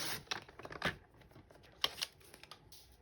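Short, crisp scraping snips come as a piece is cut off while making a holiday cutlery cone, a few quick irregular strokes, close and fairly quiet.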